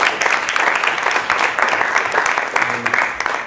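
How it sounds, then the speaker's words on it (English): Audience at a debating competition claps continuously for an opposing team, a dense, even patter that softens near the end. "Give them a round of applause."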